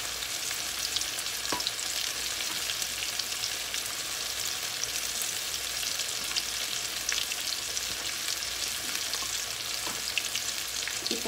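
A pork chop coated in cassava flour fries over low heat in a pan, giving a steady, dense crackling sizzle with scattered pops, close and continuous throughout with no talking.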